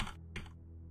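Two quick bursts of keystrokes on a computer keyboard, close and faint, over a low steady hum.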